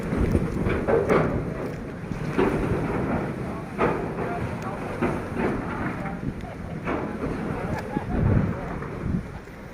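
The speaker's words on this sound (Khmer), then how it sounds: "មានទឹករលកយ៉ាងច្រើនដល់ខ្យល់បោក" Wind gusts and choppy water wash steadily around a boat crossing on a river trip from Cu Lao Dung toward Tieu Can, a dense, rumbling roar that swells and eases in uneven surges.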